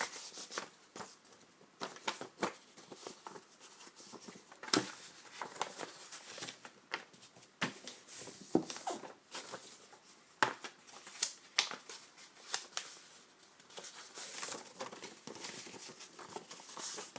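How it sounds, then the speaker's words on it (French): Paper being creased and folded for a scrapbook tag mini album: soft rustles, crinkles and sharp little taps come one after another, close and quiet, with no voices. "Donc vous marquez bien tous vos plis."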